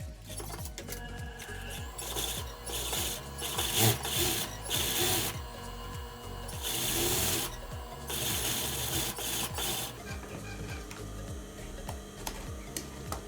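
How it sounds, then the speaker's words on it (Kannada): A sewing machine stitches along blouse piping with invisible thread, producing a fast, even mechanical ticking rhythm that stays up close and runs almost without pause, with no voices. "ಹಾಗೆ ಕೆಳಗಡೆ ಬಾಟಮ್ಗೂ ಸ್ಟಿಚ್ ಬಿಟ್ಕೊಳ್ಳೋಣ"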